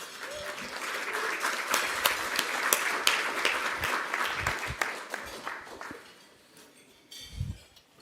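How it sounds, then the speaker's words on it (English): An audience at a cybersecurity event in Baltimore claps for several seconds, dense and lively, then the applause thins out and fades. "So just give a round of applause to Nish as you welcome him."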